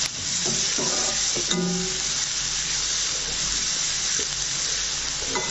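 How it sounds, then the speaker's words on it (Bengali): Onions frying toward brown for a South Indian mushroom roast give a loud, continuous hiss, with a few knocks and scrapes from the spoon as they are tossed. "এবার আমি পেঁয়াজটাকে নাড়াচাড়া করতে থাকবো।"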